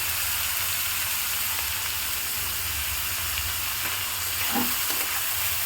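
Vegetables fry in a mix of white oil and ghee with a dense, even sizzle that holds steady throughout, plus a faint scrape of stirring near the end.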